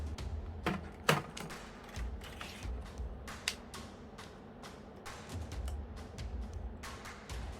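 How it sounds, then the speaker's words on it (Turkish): Flex ribbon cable of a new replacement laptop keyboard being seated and clipped into its connector, giving a run of small close plastic clicks, creaks and taps at an irregular pace, with no talk. "Şimdi yeni almış olduğumuz klavyenin flex'ini de bağlayalım."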